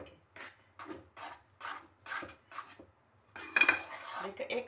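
A spoon scrapes quickly around a pan of milk in a steady series of rhythmic rasping strokes, about one per half second, growing louder and busier near the end.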